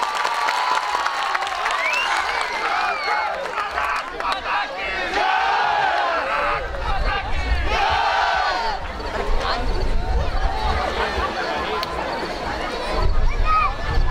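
Audience applause and cheering greet police superintendent Gaurav Tiwari as he takes the stage for a motivational speech, a sustained roar of crowd noise and clapping that swells toward the end.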